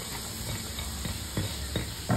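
Garlic sizzling in about two tablespoons of melted butter as the base for an Alfredo sauce, a steady close frying hiss with a few scraping stirs toward the end.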